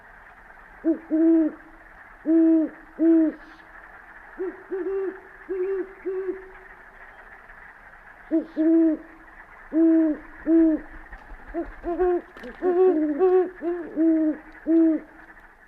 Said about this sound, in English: This is what the great horned owl sounds like. It's known as the hoot owl.